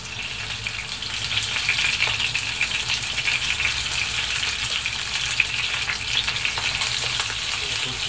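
Chicken skin renders in its own fat in a frying pan over raised heat, giving a steady, dense sizzle and spatter that holds constant throughout with no voices.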